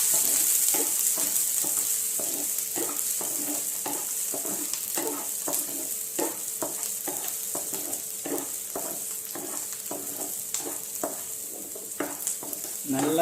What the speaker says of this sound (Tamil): வெங்காயத்தையும் ஆட் பண்ணுங்கள். பச்சை மிளகாலாம் போட்டுட்டு இப்போ வந்து நீங்கள் வந்து அப்படியே வதக்கி விடுங்க லைட்டாக.